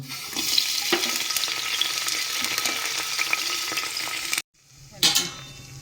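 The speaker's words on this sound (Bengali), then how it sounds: "তেলটা সামান্য হয়ে এসছে এবার পেঁয়াজ দিয়ে দেব" Onions dropped into hot oil in a pressure cooker for biryani crackle and sizzle loudly and steadily, then the sound cuts out abruptly before a short burst of frying returns.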